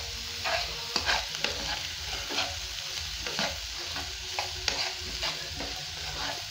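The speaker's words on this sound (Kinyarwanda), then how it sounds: "Nk'uko mubibona rero, ibirungo byacu dutangiye kubikaranga." Seasonings and onions sizzle steadily in a frying pan for a special omelette, with repeated scraping stirs cutting through the constant hiss; close and fairly loud, no talking.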